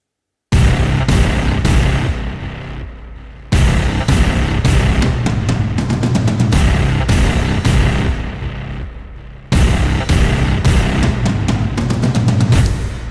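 Film score drums layered with driving guitars, built in Logic Pro X for a Mad Max: Fury Road style cue; loud, dense rhythmic hits in a steady pulse that cut out briefly twice, then return at full strength.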